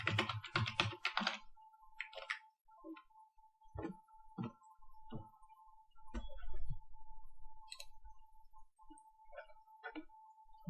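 Password being typed on a computer keyboard: a quick burst of clustered keystrokes, then sparser, scattered taps, close and fairly quiet, with a steady faint tone running underneath.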